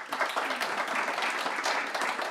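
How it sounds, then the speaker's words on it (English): An audience gives a round of applause for the panelists at an EU methane regulation event, a dense, even patter of clapping at moderate level that carries steadily throughout. "I'll put a round of applause for them."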